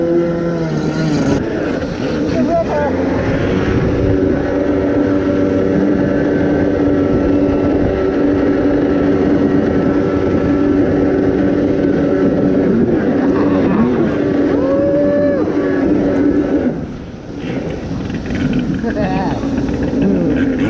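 A Kawasaki X2 stand-up jet ski engine fitted with a new waterbox runs continuously with a loud, steady, buzzing drone and slight pitch shifts as it revs. It dips briefly near the end, and speech is faintly audible over it.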